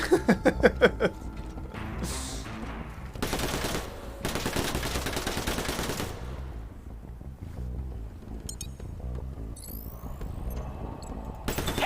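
Gunfire in the video game Tales From The Borderlands crackles in several loud, rapid bursts, separated by quieter stretches of background game sound.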